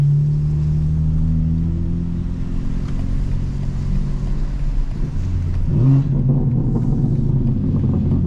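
A 2024 BMW M4 Competition xDrive engine drones steadily from inside the car while driving, a loud low rumble that shifts pitch near the end as it changes speed.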